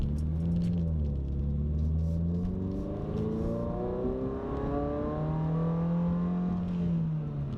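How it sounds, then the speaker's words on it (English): Steady road noise and a low engine drone inside a moving 2022 GR86/BRZ fitted with an AWE Touring Edition exhaust, with the engine pitch rising and falling slightly; no talking. "All you can basically hear is the road noise"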